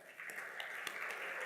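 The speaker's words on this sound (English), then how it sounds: "I would ask you to give him a warm round of applause" Steady audience applause welcoming a panel onto stage at a financial inclusion conference, a dense, even wash of clapping from a crowd that holds at moderate level throughout.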